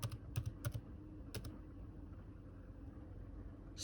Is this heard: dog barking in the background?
no